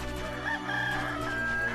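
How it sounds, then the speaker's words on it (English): Rooster crowing in the video game Star Ocean Till the End of Time, one drawn-out cock-a-doodle-doo with steady tonal bands, heard clearly with no speech over it. "Okay, it's a rooster."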